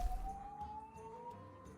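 An ambulance siren wails outside, heard faintly and at a distance as a steady rising tone, with no speech over it.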